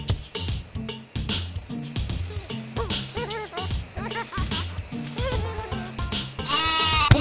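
Sheep bleating repeatedly in the Shrek Xbox video game, wavering cries layered over game music and effects, with a long loud bleat near the end.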